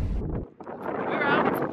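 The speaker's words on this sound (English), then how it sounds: "You might not be able to hear me because it's quite windy." Strong wind buffets the microphone with a low, blustery rumble, and a person talks through the gusts.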